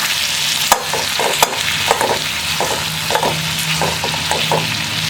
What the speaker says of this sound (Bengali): নুন হলুদ দিয়ে একটু কষিয়ে এতে জল দিয়ে দেবো